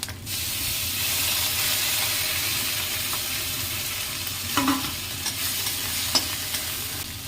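Steady sizzling of ginger and garlic frying in hot oil for a fish curry, a continuous hiss with a few small pops and clinks of stirring near the end.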